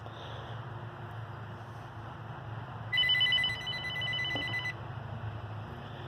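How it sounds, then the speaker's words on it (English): A mobile phone rings with a bright electronic ringtone for a couple of seconds, loud and close over a steady low background hum, with no one speaking. "So anyway, pardon my phone."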